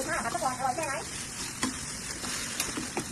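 Oil sizzles steadily as fried rice is stirred and scraped around a hot wok, with a few clinks of the utensil against the pan.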